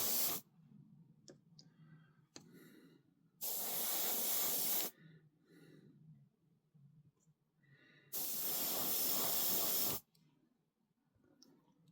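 Airbrush spraying paint onto a Tamiya 1/35 scale US 2 1/2 ton 6x6 cargo truck model, two close bursts of sharp hiss each lasting one to two seconds, separated by quiet gaps with faint clicks.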